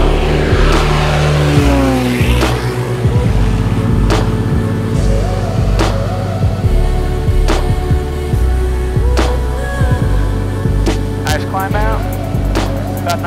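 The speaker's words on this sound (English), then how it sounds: "Making max power. Here comes the gear coming up." A Beechcraft Bonanza's piston engine roars steadily at full takeoff power on a hot summer day in Ogden, Utah, with the retracting landing gear adding faint whirs and clunks beneath the loud, continuous drone.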